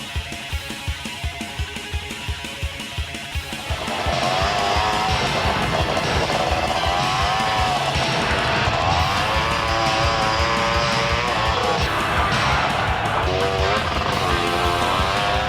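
An Odyssey off-road vehicle engine runs while riding at Forest Hill, starting as a low, rhythmic chugging and then jumping to a loud, steady roar with rising and falling revs that continue to the end.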